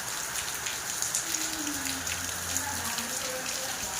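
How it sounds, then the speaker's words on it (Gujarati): Heavy rain pours down steadily, a dense continuous patter on surfaces close by. "ધોમ ધોમ વરસાદ ચાલુ થઈ ગયો પાછો અત્યારે"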